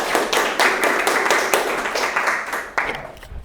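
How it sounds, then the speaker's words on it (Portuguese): A small group of people, likely a class, claps loudly and close by in uneven bursts of hand claps that swell and dip over a few seconds before dying away. "vamos uma salva de palmas para a gente"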